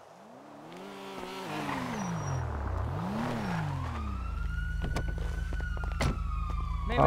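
Ambulance siren in a city roleplay video game, a wailing, rising and falling tone that settles into a steady engine drone with other vehicle noise, fairly close and continuous.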